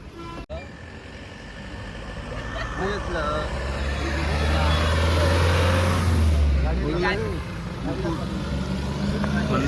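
Car packed with about seven passengers on the way to Tirupati Balaji temple, engine rumble rising and falling steadily throughout with talk and road noise inside the cabin.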